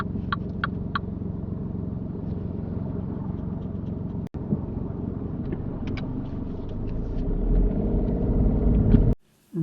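Steady car engine rumble from inside the vehicle during a UK mock driving test, with a few light clicks over the drone. The engine builds slightly toward the end, then cuts off abruptly.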